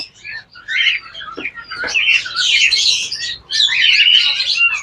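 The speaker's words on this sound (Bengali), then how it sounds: "একদম বাচ্চা থেকে পালন করা তাই চমৎকার ডাকতেছে" A hand-raised pair of crested doves calls, uttering repeated bright chirping and warbling notes in bursts, close and fairly loud, with short gaps between phrases.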